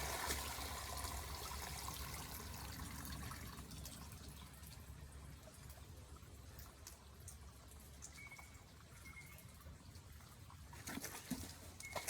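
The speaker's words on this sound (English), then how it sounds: "the water, it's now like chocolate milk. I just dump the water off" Muddy water poured off from a bucket during gold panning, a soft continuous splash and trickle that thins out, faint and close, with a few sharper knocks near the end.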